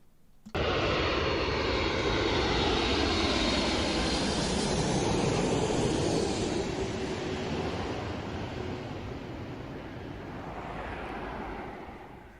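Aircraft engine at an airshow, a loud sustained roar that starts suddenly, holds steady, then eases slightly as the plane moves off, with no voices.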